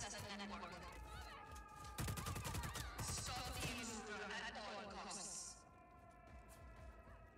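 Rapid automatic gunfire and bursts of shooting in the video game Just Cause 4, loud and dense through most of the stretch, mixed with game effects and a player talking over it.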